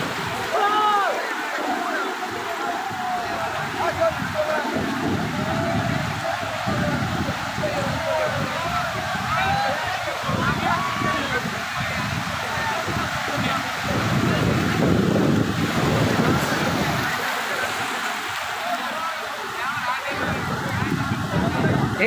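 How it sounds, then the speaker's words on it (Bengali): Rough surf rolls in at Cox's Bazar beach, a continuous roaring wash of waves with heavy wind buffeting the microphone and a person talking at times. "চলছে তো চলছে, উত্তাল ঢেউ।"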